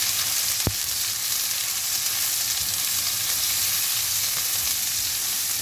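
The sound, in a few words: onion, garlic and scallions stirred and frying in pan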